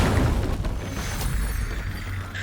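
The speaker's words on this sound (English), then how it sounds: "I suppose we should get in and rumble with them whilst all these explosions are happening" Explosions go off in the video game Baldur's Gate III as guardians pop out during a fight, with loud, dense booms and rumbling bursts that overlap continuously.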